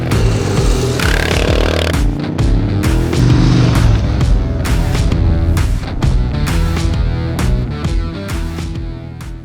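A 1988 Suzuki GSX-R 1100 air-and-oil-cooled motorcycle engine runs loud and close throughout, its steady drone broken by repeated sharp bursts and revs, with music heard alongside it.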